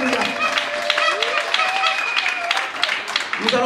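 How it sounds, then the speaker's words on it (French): A church congregation applauding and cheering the Lord, steady crowd clapping throughout, with voices and a singing or shouting speaker heard over the applause in a large room. "tu vas acclamer très fort le Seigneur"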